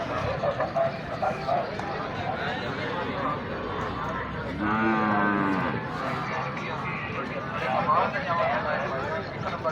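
Buffaloes at the Kharian livestock market give one loud, drawn-out low in the middle of busy market noise, while people talk nearby throughout.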